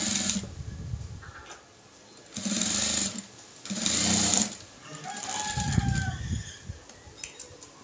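Sewing machine top-stitching a fabric piece, whirring in several short bursts of a few seconds each with quiet pauses between them, no talking.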